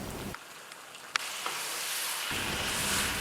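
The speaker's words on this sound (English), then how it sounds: "Saute the curry paste with some vegetable oil in a wok until it turns aromatic." Curry paste sizzles in vegetable oil in a wok, a steady broadband frying hiss that drops lower for a moment, then returns louder and fuller, with a few small clicks and pops and no talking.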